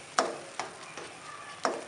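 Egg halwa with almonds is stirred and roasted in a pan over a medium-low flame, with a soft sizzle under four sharp spoon scrapes at irregular intervals.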